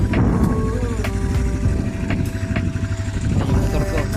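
A motorcycle engine idles and rumbles nearby on a New Zealand dairy farm, a rough, uneven low chugging with occasional revs, while a person talks over it.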